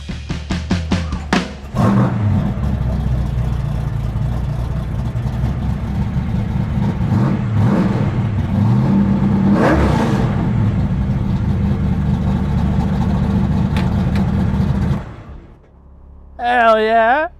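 Hot rod daily driver fired up with a kill switch, cranking briefly before the engine catches and runs loud and close with a few revving surges, then cutting off, with a whirring vacuum pump for the brakes.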